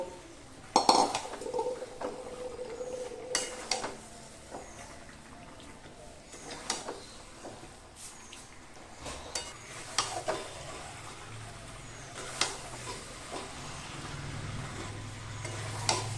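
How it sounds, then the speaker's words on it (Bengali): Fried potatoes being sautéed with mutton curry in a pot, with repeated scraping and clinking of a utensil against metal and a soft sizzle underneath, steady and close with no talking. "এবার ভেজে রাখা আলুগুলো মাংসের সাথে দিয়ে আরো কিছুক্ষণ কষিয়ে নেব"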